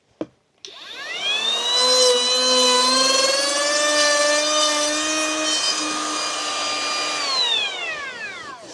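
An Einhell TP RO 18 cordless trim router flush-trims MDF, starting after a click with a rising whine that holds a steady high pitch for several seconds, then winds down quickly under its motor brake.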